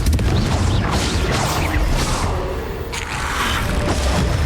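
Confringo explosive spell blast in Hogwarts Legacy gameplay, a loud booming burst with rumbling low crash and swooshing debris, sustained across the moment over game music and effects.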